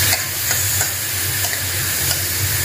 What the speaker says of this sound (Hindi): अब इनको थोड़ा ब्राउन, एकदम ब्राउन होने तक पकाएंगे।